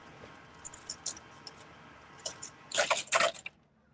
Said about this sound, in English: Sounds like he's getting himself a little ice water.